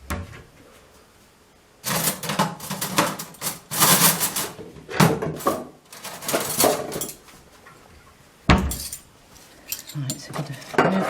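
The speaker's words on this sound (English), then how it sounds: "I'm going to get a spoon out" Metal cutlery rattles and clinks as a spoon is pulled from a drawer in a home kitchen while chocolate Rice Krispie cakes are made, in several busy clattering bursts with quieter gaps and a clear knock near the end.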